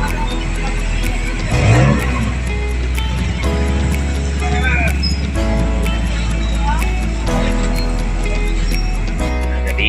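Road traffic with cars passing and engines revving on a rainy afternoon, a steady close rumble running under people talking throughout.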